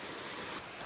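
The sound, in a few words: waterfall rushing on a Nepal trek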